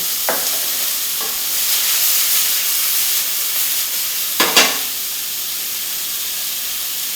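Onions and celery sizzling in olive oil in a pan, a steady broad hiss with a couple of brief louder crackles from stirring.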